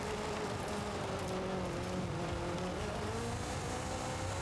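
A steady, loud engine whir from a driving video game where cars slide sideways, droning continuously without letup and with no voices over it.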